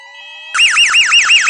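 A shopping mall fire alarm sounds loud and close, a harsh electronic tone sweeping up and down in rapid repeating whoops, kicking in abruptly after a half-second of quieter steady tones.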